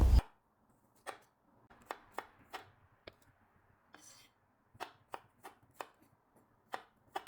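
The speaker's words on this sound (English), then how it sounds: "Roughly slice some garlic." Knife slicing garlic cloves on a cutting board, a string of crisp separate knocks in an uneven rhythm with short pauses between cuts, close and clear, no voices.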